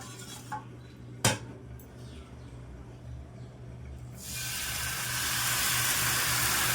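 A utensil scrapes and clinks against a pan while ghavan rice batter is stirred, with one sharp metallic knock early on, then a broad sizzling hiss that rises and holds steady to the end.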